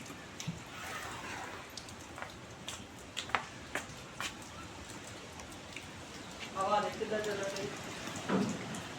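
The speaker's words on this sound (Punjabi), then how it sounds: "ਰਾਤ 10 ਵਜੇ ਦਾ ਮੀਂਹ ਲੱਗਾ ਹੈ ਨਾਲ ਇਦਾਂ ਹੀ ਹਵਾ ਚੱਲਦੀ ਆ" Steady rain falls on surfaces outdoors in a village yard, with a constant patter and scattered drip ticks, wind noise underneath, while a voice talks briefly near the end.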